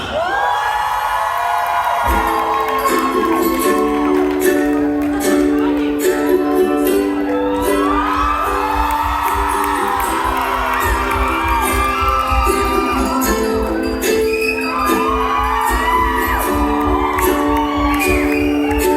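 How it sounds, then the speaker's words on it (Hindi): A live audience at an interview event in Chicago cheering, whooping and shouting to welcome a guest onstage, a loud and sustained crowd roar. "with a huge round of applause, please give a warm welcome to Farhan"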